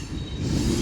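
BNSF mixed freight train passing Central Avenue: a brief, steady rumble of rolling cars close by, with a thin high wheel squeal running through and no talk.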